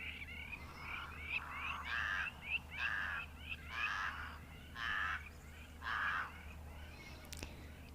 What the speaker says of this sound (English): The lapwings and the crows have quite a bit to say this morning,